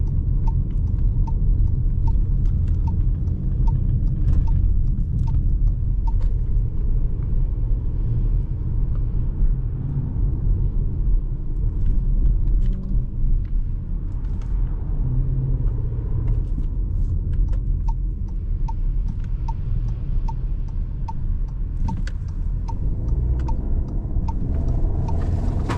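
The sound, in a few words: 2024 Volkswagen Tiguan S engine while driving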